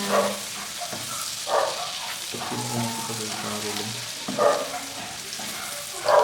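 Garlic and onion sizzle while being sautéed in a pan, a steady frying hiss broken by occasional stirring clatters, with voices and other household sounds in the background.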